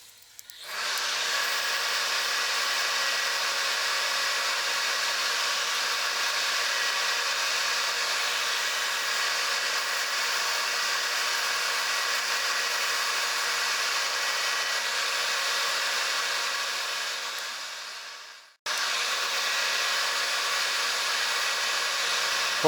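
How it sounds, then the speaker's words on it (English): A steady whirring drone runs loud and unbroken for nearly twenty seconds while the end of a turned hammer handle is sanded. It stops briefly and then resumes, suggesting a lathe or power sander on the wood. "And I'm just going to sand off"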